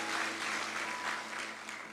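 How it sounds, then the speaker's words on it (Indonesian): Church congregation clapping together in applause, a steady, dense wash of many hands at moderate loudness, with a faint voice beneath. "Kasih tepuk tangan buat Allah kita."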